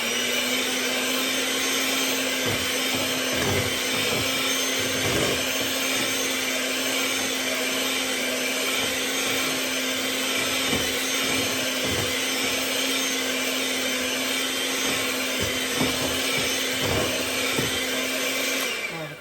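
A steady electric mixer whirs continuously while mixing banana bread batter, a loud constant motor drone with faint rhythmic knocks of the beaters against the bowl.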